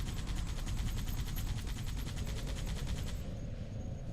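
Halo 2 Rebalanced mod GPMG machine gun with a tweaked firing sound, a rapid even burst of close automatic fire over a deep rumble, stopping near the end and leaving the low drone behind.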